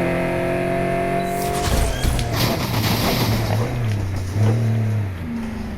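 A Porsche RSR race car in Need for Speed Heat accelerates hard, its engine note climbing through upshifts with rising and falling pitch, loud and close, with a burst of tire and impact noise partway through.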